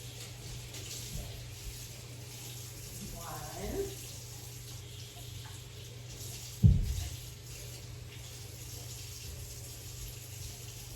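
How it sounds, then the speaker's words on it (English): A kitchen tap runs steadily and quietly while water is measured out for a chicken marinade, with a short louder splash partway through and a speaking voice faintly in the background. "I'm gonna go add 2 tablespoons of water really quick."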